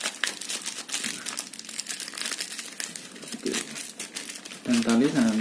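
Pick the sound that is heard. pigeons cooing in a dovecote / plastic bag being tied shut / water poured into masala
plastic bag being tied shut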